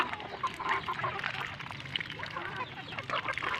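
Ducks and chickens feed together close by, with steady quacking, clucking and honking calls over soft pecking and scratching noise.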